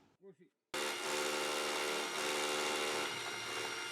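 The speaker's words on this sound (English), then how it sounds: "some other builders arrived to drill the main support for the pergola into the wall" A loud, steady power-tool whine starts abruptly after a brief voice, grinding on continuously at close range as a drill bores into a wall to fix a pergola's main support.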